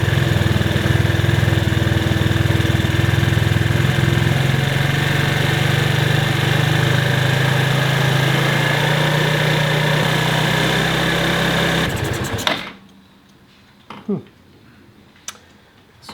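A Genuine Buddy 125 scooter engine, freshly cleaned and with its carburetor adjusted, idles steadily and loudly up close for about twelve seconds, then cuts out, leaving a quiet room with a few faint clicks.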